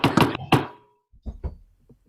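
Hard knocking on a door or gate: a quick loud cluster of three raps, a pause, then a softer, duller series of knocks.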